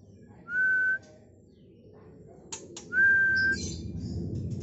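A white-rumped shama of the Medan type sings two clear, sustained whistled notes separated by a pause, with a few short chirps between them over a rustling background.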